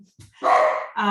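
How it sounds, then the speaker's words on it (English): A dog barks once or twice, loud and close, at a candidate forum, breaking into a speaker's address with a short yip followed by a longer, harsh bark. "I apologise for my dog."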